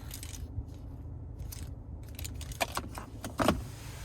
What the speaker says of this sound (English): Finally, here's the key fob.